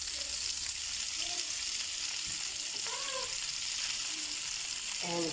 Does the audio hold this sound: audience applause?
no